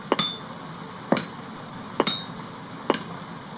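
In Vintage Story, a setting hammer taps stone four times at a slow, even pace. Each strike is a crisp, near, glassy clink that rings briefly before the next.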